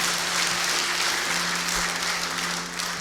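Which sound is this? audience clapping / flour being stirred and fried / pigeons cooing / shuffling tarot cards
audience clapping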